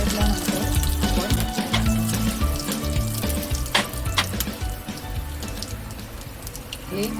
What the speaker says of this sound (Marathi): यामध्ये आपण कढीपत्ता आणि मोहरी टाकू